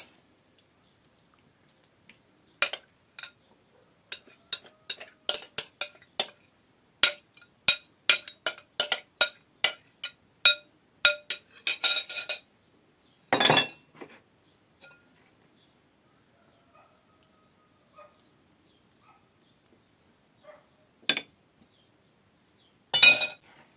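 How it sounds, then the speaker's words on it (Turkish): Green plum salad with yogurt dressing being stirred and tipped onto a white serving plate, giving a long run of sharp clinks and taps against dishware, fairly close, with short pauses and a few isolated knocks near the end. "Hemen şöyle karıştırdık. Ve servis tabağımıza döküyoruz."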